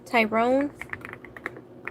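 Computer keyboard typing of names appears as a quick series of light, close clicks right after a short spoken phrase, irregular in rhythm and fairly soft.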